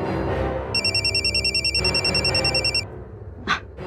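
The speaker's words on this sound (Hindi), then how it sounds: "शंकर प्रसाद जी का फोन है।" An electronic telephone ringtone trills in rapid pulses for about two seconds, clear and close, then stops.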